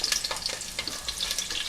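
Onion and butternut squash fry in very hot garlic oil, giving a steady close crackling sizzle with bursts of popping spatter throughout.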